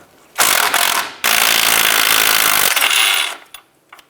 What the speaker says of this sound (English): Using a 17mm socket, go ahead and loosen this nut.